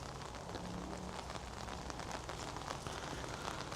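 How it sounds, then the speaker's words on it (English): Heavy rain drumming steadily on a large umbrella outdoors in Kidsgrove, a dense, close, continuous patter with no voices. "Rain's really heavy now, so like I say, it's a good job I've got my big umbrella."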